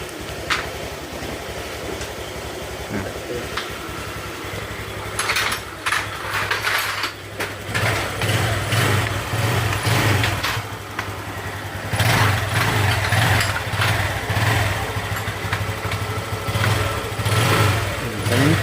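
A Honda Click 125 scooter engine idles steadily after repair of oil-neglect damage, with a low rumbling drone and occasional rattles, running continuously for the whole stretch with no voices.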